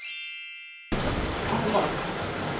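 Single notification bell ding sound effect, a bright ringing tone that decays for nearly a second before a louder burst of noisy background sound cuts in.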